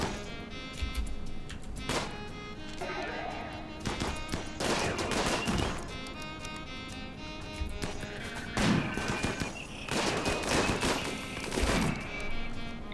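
Colonists in RimWorld open fire in ragged bursts, rapid game gunshots and volleys crackling in clusters with sharp thuds between, loud and close, no talking over the shooting.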